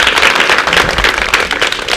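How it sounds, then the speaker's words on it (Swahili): An audience at a school sensitization session claps for the teachers, a loud, dense burst of many hands close by that continues without a break. "Tuwapigeni makofi"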